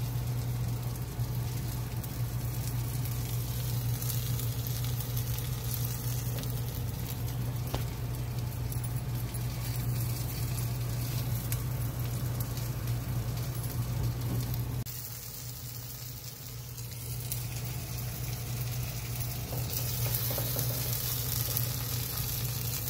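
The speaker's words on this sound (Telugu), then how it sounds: "తిరిగేసి ఇంకో 3-4 నిమిషాలు అలా ఉడకబెట్టుకోండి" Food bubbles and sizzles in a pan, a continuous crackling hiss over a low steady hum that drops briefly partway through before resuming.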